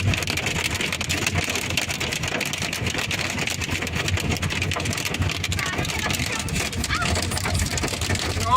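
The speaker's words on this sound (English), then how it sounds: "Getting caught in a hailstorm is no fun." Dense, steady pelting of hail drumming on a car's body, a constant hard clatter with a low engine rumble underneath.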